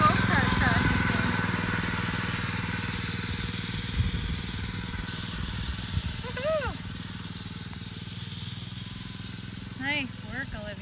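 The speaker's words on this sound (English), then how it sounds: "She's doing a little go-kart practicing." A child's small pink go-kart buzzes around orange cones on a farm, its engine droning loudly and steadily at first, then easing off with a few brief surges.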